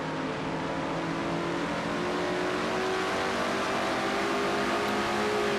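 Chevrolet and Dodge stock cars race in a video game NASCAR-style series event, their engines droning loud and steady with rising pitch and no break, and several cars roar together at close range.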